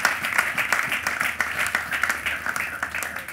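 A church congregation applauds in praise during a testimony service, with steady, dense clapping that carries on throughout at a fairly loud level.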